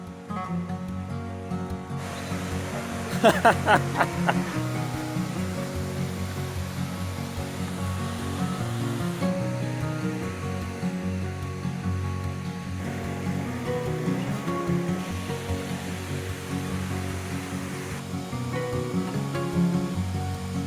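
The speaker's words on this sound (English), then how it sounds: "the waterfall looks so much more impressive than the other two that we've been to so far" Waterfall in the Yorkshire Dales, a continuous rushing roar with a faint steady hum beneath it, unbroken and fairly distant, with a short burst of sharper splashing early on and no talking.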